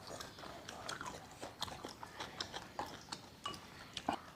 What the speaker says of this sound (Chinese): 我们来一片这个肉，搭着这个黄瓜，又有脆爽又有肉。